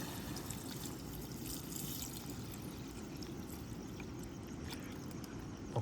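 Water pouring into a pan of fish curry, a steady close splashing trickle that runs continuously without a break and without talk.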